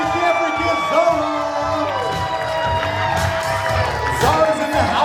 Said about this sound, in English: let's give a big round of applause to our newlyweds, Garth and Nancy Overman